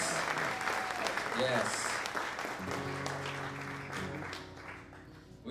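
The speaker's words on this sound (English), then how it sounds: "So can we have a big round of applause for, where is she?" An audience at a live music show applauds steadily with dense clapping that slowly thins out, while a performer speaks briefly over it.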